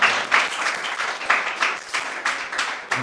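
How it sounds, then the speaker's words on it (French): An audience at a children's eloquence competition TV show claps for a young fourth-grade speaker, a steady burst of applause swelling in waves for a few seconds. "Acclamez-le encore une fois."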